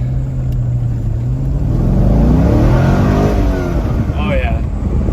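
A 1998 Chevrolet Corvette convertible engine with aftermarket parts revs up loudly and steadily, its pitch climbing and then falling, close by and continuous.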